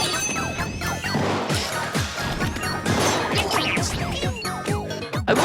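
Splatoon game audio fills the stretch with dense, loud crashes and splattering impacts, a rapid run of bursts and descending zips layered continuously rather than one clean charger shot.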